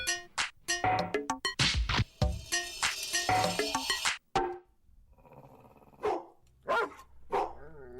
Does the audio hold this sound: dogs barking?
yes